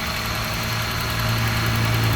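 A 1.5-litre fuel-injected car engine with a manual gearbox idles steadily close by, a continuous low hum with a faint rhythmic pulse and no talk over it.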